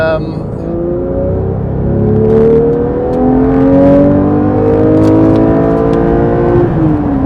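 A 2022 Porsche 911 GT3 Touring engine revs hard, a loud close howl climbing in pitch through the gears with brief drops between shifts, under a voice.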